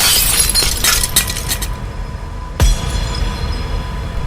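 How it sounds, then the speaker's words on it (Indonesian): Mirror glass breaking apart, a loud burst of shattering followed by scattered tinkling fragments, then a second heavy crash partway through; no talking. "dan tiba-tiba cermin itu hancur."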